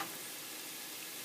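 Broken-up chunks of ground hamburger meat fry in a pan on a stove with a steady, close, even sizzle that lasts the whole brief moment.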